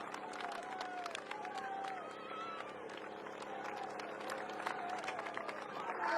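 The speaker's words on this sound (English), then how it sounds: "Great crowds." Roadside crowds at the Tour de France cheer and clap in a continuous wash of distant shouts, whistles and applause, with voices talking over the top.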